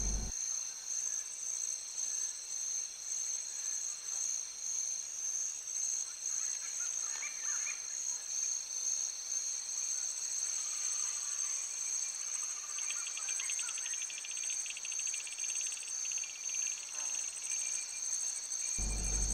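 Insects chirp in a continuous, high, shimmering drone that holds steady and fairly faint throughout, with no one speaking.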